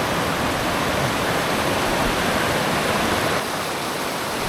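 A mountain creek on the Timberline Trail near Mt Hood rushes in a loud, steady broadband roar of flowing water, close by, with no voices.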